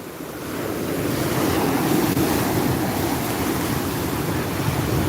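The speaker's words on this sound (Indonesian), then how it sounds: "Ini suasananya di pantai Chumyang Beach." Ocean surf rolls in steadily at Jumiang Beach on Madura, a broad continuous wash of breaking waves with wind buffeting the microphone, no voices present.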